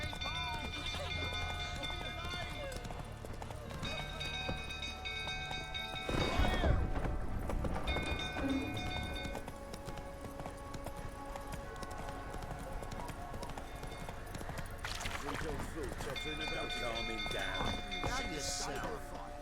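Hoofbeats of Geralt's horse Roach in The Witcher 3: Wild Hunt, a clip-clop trot with a brief whinny, under game music and spoken dialogue, with a louder burst midway.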